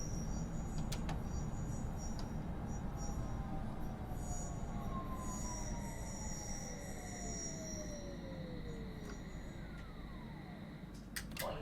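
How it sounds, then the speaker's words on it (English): A London Underground Metropolitan line S Stock train running in Train Simulator Classic, steady low rumble of motors and wheels with long drawn-out wheel squeals and occasional clicks throughout. "This is a semi-fast Metropolitan line train to Watford."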